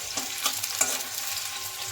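Chopped onion hits hot oil with ground cumin in a pan, giving a steady close sizzle and a few scraping stirs for about two seconds.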